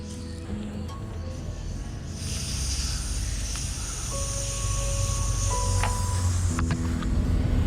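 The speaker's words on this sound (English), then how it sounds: "Tire valve tool, so I'll be releasing the air." Air hisses out of the flat rear tyre valve of a TVS iQube electric scooter as a valve tool releases it, a steady close hiss that grows slightly louder and runs for several seconds.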